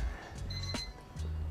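A cooking timer beeps while steak is being prepared, thin high-pitched pips over a steady kitchen hum, fairly faint beneath the background.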